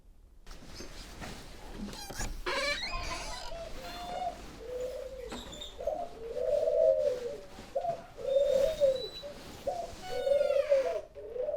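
Repeated pigeon coos, fairly close and clear, come in a series of soft rising-falling phrases, with some brief chirping and handling noise at the start and no talk.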